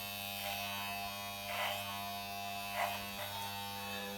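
Electric hair clippers cutting hair at a barbering session, giving a steady close mechanical buzz with a few brief swells as the blades pass through hair, no talking.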